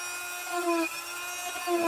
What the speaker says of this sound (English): I'm gonna use the Dremel